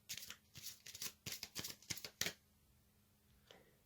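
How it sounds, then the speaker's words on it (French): Tarot cards are shuffled and drawn by hand, a quiet close run of crisp riffling flicks for about two seconds, then silence with one faint final tap. "Je vais tirer une autre carte."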